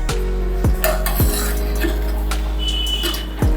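Aviyal is stirred in a pan after steaming, with several sharp metallic clinks and scrapes of a spoon against the vessel over a low steady hum, a faint sizzle beneath.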